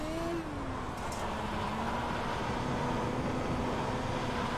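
A dirt midget race car in the iRacing sim runs at full throttle on a slick track with its tires spinning, giving a steady, loud, unbroken engine drone with no talk.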